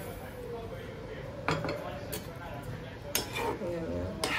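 Rava for upma is added a little at a time to a pan and stirred, with a quiet steady background broken by a few sharp utensil clinks and scrapes against the pan.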